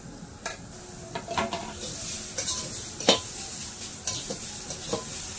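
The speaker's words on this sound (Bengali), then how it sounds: "গাজরের সঙ্গে খুব ভালো করে কষে নেব।" A spatula stirs a coconut and carrot filling, sweetened with a little sugar, in a hot pan: soft scraping, light sizzle and occasional sharp taps of utensil on metal, close and fairly quiet.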